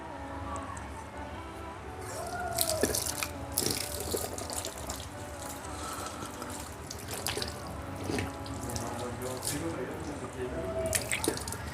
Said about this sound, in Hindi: कुर्ली करते वक्त पानी हलक तक जाना चाहिए